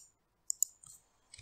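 Two quick, crisp mouse clicks in close succession in near silence, followed by faint small handling noises.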